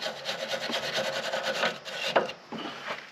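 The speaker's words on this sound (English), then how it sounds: "we're going to clean up these threads on this. Getting a little rust up in there." Rust being scrubbed out of the threads of a tie rod on a Mitsubishi Outlander Sport, heard as close, rapid, rhythmic rasping strokes that break off near the end into a few scattered scrapes and knocks.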